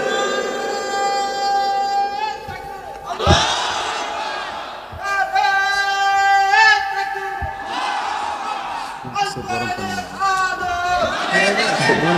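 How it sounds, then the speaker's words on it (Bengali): At an outdoor Islamic sermon in Satkhira, a large crowd roars the takbir chant in loud, sustained waves, echoing through the PA system, repeated several times and mixed with amplified voices. "একটু বড় আরে তাকবীর"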